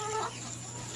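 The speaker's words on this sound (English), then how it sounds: "We can let some of these chickens go outside to free range" Farm chickens cluck and murmur in a flock, a dense, continuous clucking that sounds near and moderately loud, with no talk over it.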